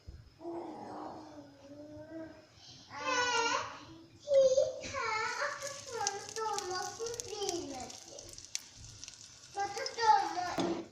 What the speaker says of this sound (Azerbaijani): indi qızmış tavada dağ olmuş yağın içərisində qızardacağım